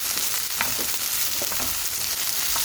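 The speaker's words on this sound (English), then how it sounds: "Some of it is just frying over here." Sliced okra fries in a pan with a constant, dense sizzle and occasional spatters, close and steady, with no talking.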